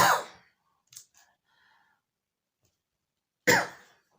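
Two separate coughs, one at the start and another a few seconds later, with near silence and a faint click between them.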